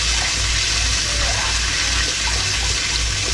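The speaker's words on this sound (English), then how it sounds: "I'm going to add in my beef broth" Beef broth poured from a container into a pot over a roast, a loud, steady, continuous splashing pour with no talking.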